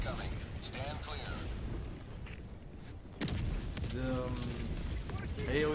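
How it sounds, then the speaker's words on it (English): Orbital barrage strikes in a video game rumble as heavy, continuous low booming that surges louder partway through, with voices talking over the blasts. "Orbital barrage incoming. Stand clear."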